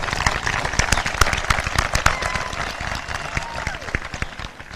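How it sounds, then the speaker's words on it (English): Applause from the crowd at a high school graduation ceremony, dense and sustained clapping close by, with scattered cheers and a faint voice mixed in before it tapers slightly at the end. "Let us give a round of applause to these adults that have helped us today."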